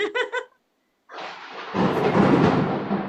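Deep thunder from a storm rolls in after a brief pause, a loud sustained rumble that swells and lingers, preceded by a short bit of voice at the start.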